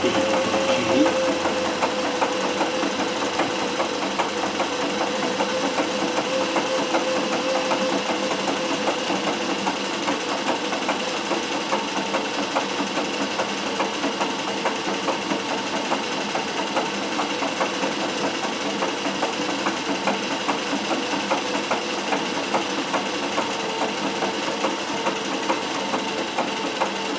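A Singer 411G sewing machine driven by treadle through a custom balance wheel runs fast and steady for the whole stretch, a dense close mechanical whir and clatter without pause or voices.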